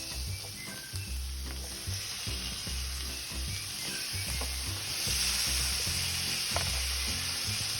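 Cleaned, deveined shrimp sizzling steadily in a pot in a hotel room, a continuous bright frying hiss with low background rumble and occasional small pops, growing slightly louder partway through.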